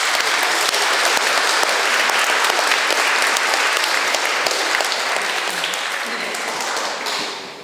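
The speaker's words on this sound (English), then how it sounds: "can we give him a round of applause to this?" Audience in King's Hall at Newcastle University applauding, a dense, loud wash of clapping that holds steady for several seconds and then tapers off at the end.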